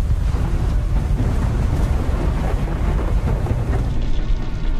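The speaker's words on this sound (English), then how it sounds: "We're in the middle of the storm, sir." A thunderstorm roars around an airliner in flight on TACA Flight 110, a dense, continuous low rumble with heavy broadband noise. It is loud and unbroken throughout, with no voices.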